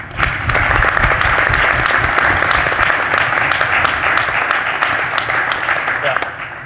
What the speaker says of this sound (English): please let's applaud every contributor for this release.